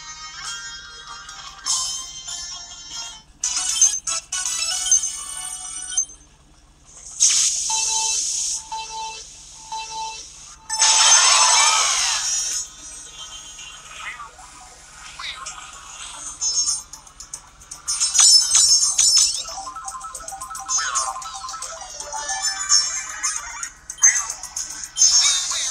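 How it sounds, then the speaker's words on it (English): Shy Guy characters in Mario Kart Tour make odd high chirpy electronic calls, with repeated short beeping bursts and squeaky tones amid game sound effects, near and fairly loud. "That's a weird noise the shy guys make."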